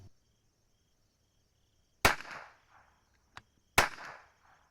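Two sharp rifle shots crack from a CZ457 bolt-action firing SK Semi-Auto rimfire ammunition outdoors, each followed by a short echoing tail, with a faint click between them and no talking.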